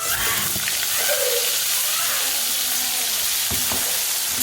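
Chole gravy of crushed onion, tomato, green garlic and chilies with red chili powder sizzling loudly in a pan, a dense continuous hiss with a few stirring scrapes near the end.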